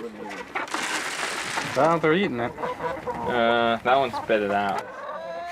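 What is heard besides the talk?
chickens clucking while eating scraps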